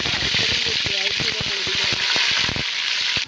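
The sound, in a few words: ginger garlic paste frying in hot oil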